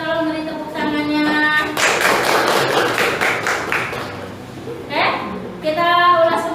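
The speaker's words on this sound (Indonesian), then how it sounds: "Tolong beri tepuk tangannya." Students in a classroom clap for group 3, a short burst of nearby hand claps that swells and then fades, with voices speaking before and after.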